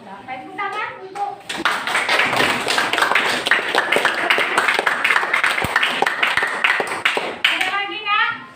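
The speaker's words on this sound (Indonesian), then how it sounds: "Tepuk tangan untuk" A class of students claps during a classroom guidance lesson: a teacher's voice, then a burst of loud, dense clapping lasting several seconds before talking resumes near the end.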